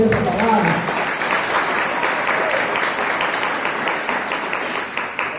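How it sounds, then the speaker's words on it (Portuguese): A congregation at a Portuguese-language church service bursts into loud, sustained applause that fills the room and tapers slightly toward the end, with a voice audible beneath the clapping. "Você pode aplaudir ao Senhor por essa palavra?"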